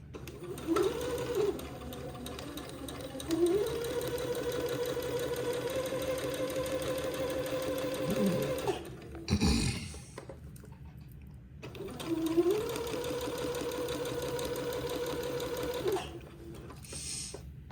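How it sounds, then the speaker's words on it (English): A sewing machine stitches long seams on a baby garment, whirring steadily for several seconds at a time with brief pauses and a short clunk between runs, close and alone with no voices. "it's going to take me a while to get both of these seams sewn"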